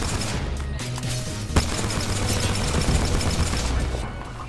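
Sustained energy-weapon fire from a gold Havoc rifle in the Apex Legends video game, a dense rolling stream of shots lasting several seconds with one sharper crack midway, loud and close.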